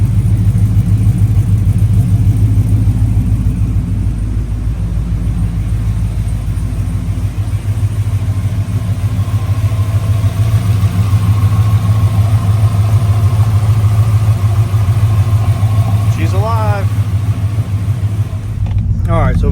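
A Whipple-supercharged Chevrolet Silverado truck engine idles steadily with a loud, continuous low rumble that holds throughout, ending with a brief higher whine near the close.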